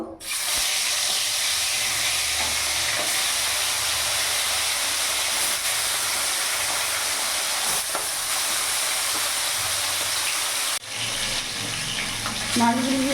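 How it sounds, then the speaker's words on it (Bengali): Lata fish laid one by one into hot oil, a loud continuous sizzle that starts abruptly and carries on steadily, with a sharp break near the end followed by softer frying and a light clatter. "তেল গরম হয়ে গেছে, এবার এক এক করে আমি মাছ ছেড়ে দেবো।"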